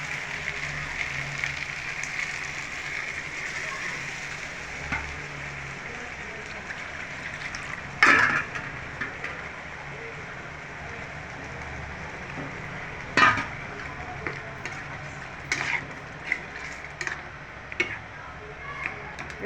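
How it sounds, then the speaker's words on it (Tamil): Brinjal sautéing in oil for an oil-brinjal kuzhambu curry, giving a steady close sizzle broken by a few sharp clicks and pops. "கத்திரிக்காய் நல்லா வதங்குது."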